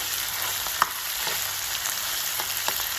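Mutton chops sizzle in a little oil in a pan on a home stove, a steady bright frying hiss with occasional soft pops and crackles, close and continuous without talk.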